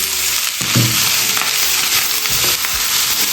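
Rice and eggs fry in a hot pan for spicy chicken fried rice, a close, loud sizzle with scraping stirs and clanks of a utensil, no voices.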